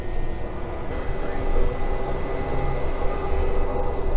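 A light propeller airplane taxiing before takeoff, heard from inside the cabin as a steady, loud engine drone with broadband rumble that holds constant throughout.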